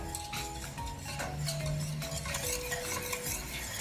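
Thickening liquid for a Milo cake is stirred in a pot, making continuous soft scraping and swishing with faint light clinks, close and steady.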